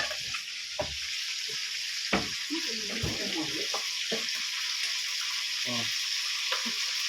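Corned beef with potato sizzles steadily in a frying pan while a utensil stirs and scrapes through it, with a few short clanks over the constant hiss and no talk.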